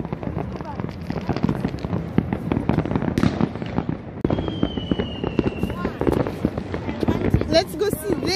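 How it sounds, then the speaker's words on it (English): Fireworks burst over a neighbourhood street during New Year celebrations, a dense continuous crackle of pops and bangs with a whistling rocket streaking up midway, while people talk close by throughout. "I see fireworks there out nearby."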